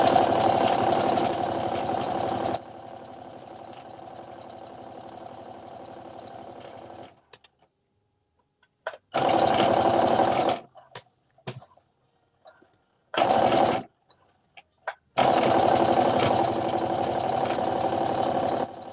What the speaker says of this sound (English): you can just serge around the ties like I do and then fold the serge in and top stitch around